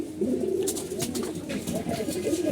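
Pigeons cooing while they eat, mostly paddy grain, with soft repeated low coos close by and light clicking and pecking noises layered over them.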